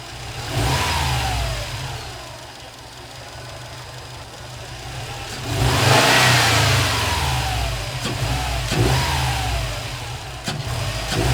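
Engine of a 2015+ Subaru STI fitted with an HKS intake, heard up close as it idles with a rough burble and then revs several times, each rise swelling loud before falling back to idle.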